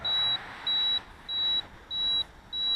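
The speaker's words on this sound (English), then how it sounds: "transmitter beeps the whole time while it films" Sky Viper V950HD drone transmitter beeping steadily while the drone records in flight, five evenly spaced high electronic tones, each lasting about a third of a second, over faint background hiss.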